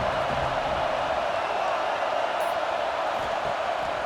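Steady, dense roar of a stadium crowd at a North Carolina vs NC State college football game in EA College Football 26, a constant wash of massed voices with no clear peaks, holding level throughout.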